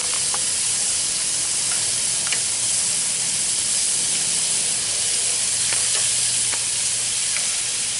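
Squirrel pieces frying in a pan over a gas flame give off a steady, loud sizzle with faint crackles and pops throughout, and no voices are heard.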